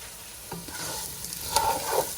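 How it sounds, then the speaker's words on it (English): Fideo noodles and chopped jalapeño fry in a hot pan, a steady close sizzle broken by scraping stir strokes that grow louder toward the end. "we're going to fry this, stirring constantly for a good 5 minutes"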